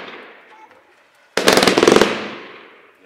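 A NICO Hamburg firework battery fires a rapid burst of about ten cracking shots in quick succession, loud and close, ringing out into a fading echo after the tail of an earlier blast.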